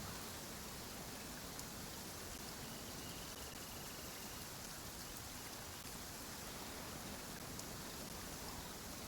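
Rain falls in a constant soft pitter-patter, an even, quiet hiss of many drops that continues unchanged, with no voices over it.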